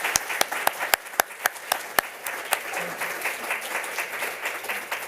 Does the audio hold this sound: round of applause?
yes